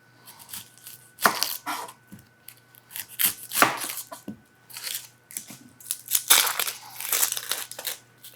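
Yellow onions are peeled by hand after their ends are trimmed off, giving a run of close, dry crackling and tearing bursts of papery skin, uneven in rhythm, with short pauses between pulls and no talking.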